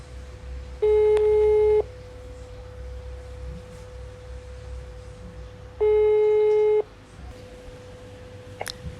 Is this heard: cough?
no